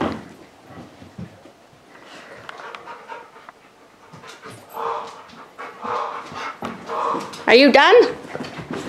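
A puppy pants steadily and lets out a short burst of close, loud yipping barks near the end, with a person talking over it.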